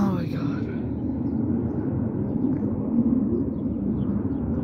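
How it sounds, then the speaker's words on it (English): Fighter jets pass overhead with a loud, continuous low roar and rumble that fills the whole stretch, heard from the ground outdoors. "Those are fighter jets."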